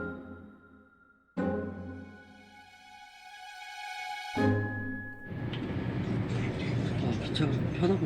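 Steady rumble and rushing hum inside a moving passenger train in India, with tonal whines rising and a broadband roar building toward the end.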